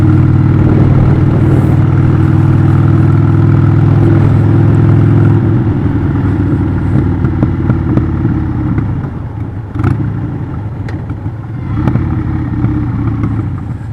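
A 1998 Harley-Davidson XL1200C Sportster engine idling cold after a carburetor cleaning, loud and close with a steady lumpy rumble, a slight dip in pitch midway and a few faint pops.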